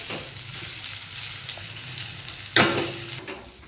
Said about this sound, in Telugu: ఇప్పుడు ఈ స్మాష్ చేసిన ఇడ్లీని కూడా వేసేస్తున్నాను చిన్నగా కలుపునా